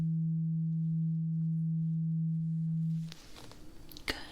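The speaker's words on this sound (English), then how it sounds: "I have a tuned fork, and I want you to tell me when you hear the sound stop." A struck tuning fork rings as a steady pure tone for about three seconds, then stops abruptly, leaving faint rustling and a soft tap in a quiet room.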